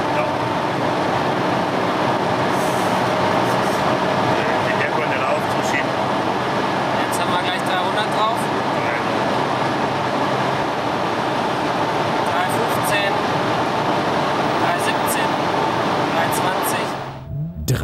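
A car accelerates hard on a German autobahn from around 250 km/h, a loud, steady roar of engine, wind and road noise filling the cabin while someone talks over it.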